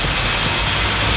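A bicycle being pedaled at an easy, steady pace, giving a continuous whirring mechanical drone with a faint ratcheting, gear-like texture that stays even throughout and has no voices over it.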